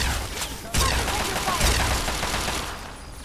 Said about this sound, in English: Great, I'm just firing at the wall.